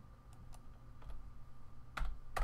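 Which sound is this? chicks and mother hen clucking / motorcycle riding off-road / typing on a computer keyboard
typing on a computer keyboard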